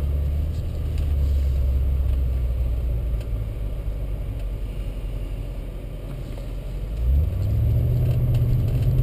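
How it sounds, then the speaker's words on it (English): A 2001 Audi A6 4.2 engine hums steadily from inside the car as it drives, with a low rumble that rises in pitch near the end as it speeds up. "you'll see the car drives on its own power"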